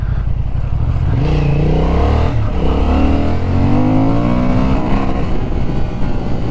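A 2025 Honda Hornet 750 motorcycle engine revs hard and close, its pitch climbing steadily with a brief dip as traction control cuts in, then it pulls on again with no voices.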